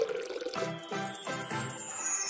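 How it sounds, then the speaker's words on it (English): Water poured into the hollow head of a doll, a close, trickling pour with a few bright tinkling, hollow splashes in an uneven rhythm. "I'll just lift off her hair and pour in some water."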